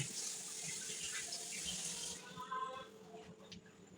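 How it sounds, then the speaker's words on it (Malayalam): Tap water runs hard into bottles being washed and filled at a sink, a close, steady gushing that gives way to a rising gurgle as a bottle fills, then tapers off. "കുപ്പിയൊക്കെ കഴുകി വെടുപ്പാക്കി വെള്ളം നിറച്ച് ഫ്രിഡ്ജിലേക്ക് അല്ലേ"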